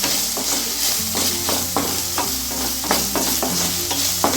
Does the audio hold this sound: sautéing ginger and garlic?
yes